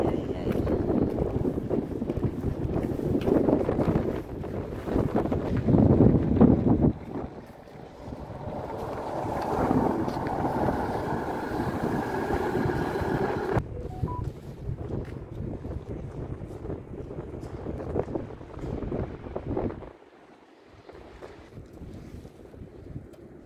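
Strong wind buffets the microphone outdoors in front of a shopping mall by a bus stop, a steady broadband roar with gusts, dropping somewhat near the end; no talking is heard.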